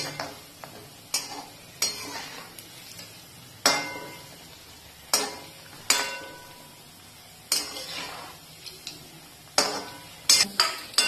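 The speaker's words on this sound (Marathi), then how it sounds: "तर असे मंद गॅसवर तळून घेणार आहोत." Jaggery gulgule deep-frying on a low flame, a steady soft sizzle broken by sharp repeated clinks and scrapes of a spoon against the pan every second or so, close and fairly loud, with no talking.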